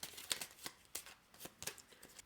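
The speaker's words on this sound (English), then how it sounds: "You'll shuffle the market cards" A deck of market cards for the Potions of Azerland board game is shuffled by hand, giving a quick series of crisp riffling bursts and soft card slaps, quiet and close, with no voices.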